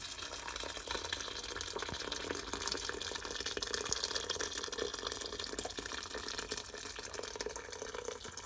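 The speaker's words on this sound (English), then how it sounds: "I've just done another boil, so I'll put that in, help that along." Freshly boiled kettle water is poured into a blackberry wine mix, producing a constant hissing, splashing flow that stays even throughout at a fairly soft level, with nobody speaking.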